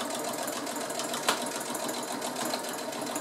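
Sewing machine stitching fabric handle pieces for an insulated fabric cooler bag, a loud, continuous close-up whir with one sharp click partway through.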